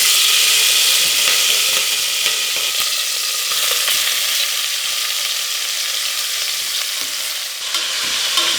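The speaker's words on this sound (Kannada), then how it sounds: "ಎಣ್ಣೆಯಲ್ಲೇ ಚೆನ್ನಾಗಿ ಒಂದು 5 ನಿಮಿಷ ಇದನ್ನು ಫ್ರೈ ಮಾಡ್ಕೋಬೇಕು." Country chicken pieces frying in a little hot oil in a pressure cooker, a loud continuous sizzle with occasional stirring clicks and scrapes, no voices.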